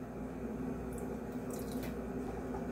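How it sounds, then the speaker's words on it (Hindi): A little water poured into bottle gourd raita with black and white salt, a soft steady liquid trickle and gentle splashing beneath a constant low background hum. "इसमें हम थोड़ा सा पानी ऐड करेंगे"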